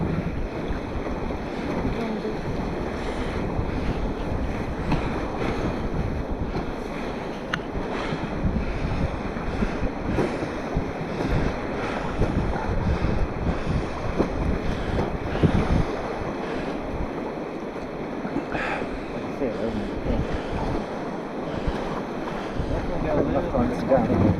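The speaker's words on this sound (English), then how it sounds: "As we come up on this little bit of choppy water here, practice some paddling." A paddled boat moving through choppy water on the Sunwapta River, heard as steady wash and splashing under heavy wind noise, with voices talking now and then.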